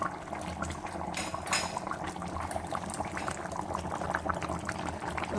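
A pot of thick fish-head curry bubbles and burbles steadily at close range, a quiet continuous simmer with small popping bursts.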